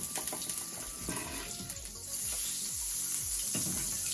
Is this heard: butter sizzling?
yes